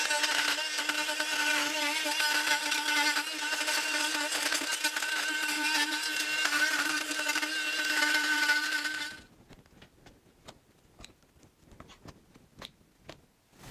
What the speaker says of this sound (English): I'm going to use my multi-tool to cut all them away